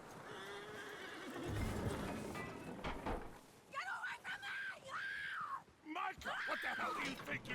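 A horse whinnies several times in drawn-out, wavering neighs, with hoofbeats and muffled voices underneath in a scene from the video game Red Dead Redemption 2.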